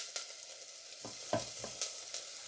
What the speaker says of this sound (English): I'm just softening one small onion